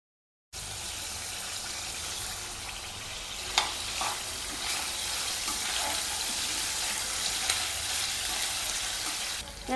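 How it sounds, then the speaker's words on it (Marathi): Potatoes sizzle steadily in a few spoonfuls of hot oil in a pan for a bombil batata dish, a close, even frying hiss with occasional brief stirring clatters and no talk. "बटाटा त्यात छान परतून घ्यायचा आपल्याला।"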